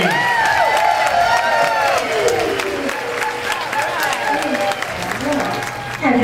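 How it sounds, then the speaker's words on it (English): An audience at a girls' night out event applauds to welcome two performers, with dense, steady clapping and scattered whoops and cheers running loudly throughout. "Ladies, please give a big welcome round of applause for Phyllis and Lamont, the Cooking Ladies."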